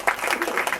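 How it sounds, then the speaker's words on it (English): A brief burst of crowd applause at a sheep show, dense clapping with a voice mixed in. "one more big round of applause"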